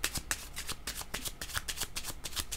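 A deck of tarot-style cards being shuffled by hand, a fast run of crisp riffling flicks and slaps close up, repeating in quick bursts with no talk.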